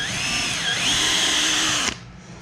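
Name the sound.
power drill drilling pilot hole in willow hoop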